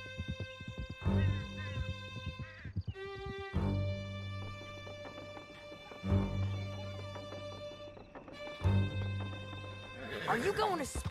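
Horses whinny in Red Dead Redemption 2, with sharp rising-and-falling neighs near the end and loud thumps and crashes earlier, mixed with music and voices throughout.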